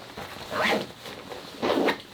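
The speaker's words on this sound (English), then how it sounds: "it's just an open pit zip, a pretty large opening as well, with a single zipper" A single zipper on the open pit zip of a Jones Shralpinist women's ski jacket is pulled twice, each a short close rasp separated by a pause.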